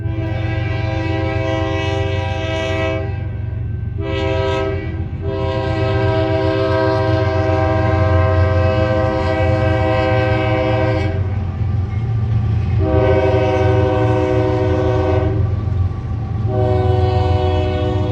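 Slow work train passing close by, engines in front: a loud, steady rumble of the locomotive and wagons, with long blasts of a multi-tone horn repeating several times over the rolling noise.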